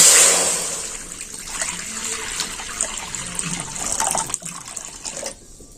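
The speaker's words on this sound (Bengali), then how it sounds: "দিয়ে দিচ্ছি জল" Water poured into a pot being readied for steaming semolina bhapa pitha, a loud splashing gush at the start that settles into softer running and sloshing, then stops near the end.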